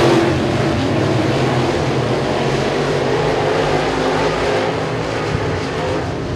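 Race cars at a speedway, a dense, loud engine roar from the pack on track, continuous and fairly close, with no talk over it.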